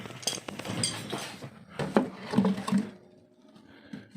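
Wooden lid of a homemade bee swarm trap, built to hold about six or seven frames, opening with a few close knocks and clatters of wood, then settling into quiet.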